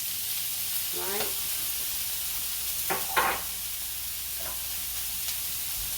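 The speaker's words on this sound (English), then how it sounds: "So I just kind of saute them a little bit." Rinsed canned cut green beans sautéing in a pan give a steady, even sizzle and hiss, with a few brief clinks of stirring and scraping over it and no talk.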